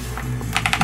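Keys on a computer keyboard clatter while a light gun arcade game is played with keyboard and mouse in MAME on RetroPie: a quick run of four or five close, crisp taps over a steady background hum.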